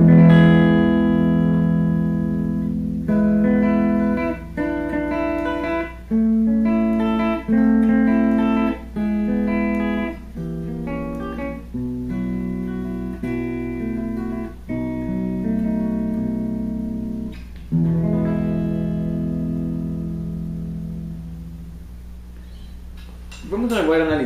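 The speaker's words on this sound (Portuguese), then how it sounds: "então essa aqui é a minha cadeia de sinal e esse é o som da guitarra limpa." A clean electric guitar through a Giannini Tremendão tube amplifier plays a sequence of sustained, ringing notes and chords, steady and clear for the whole stretch.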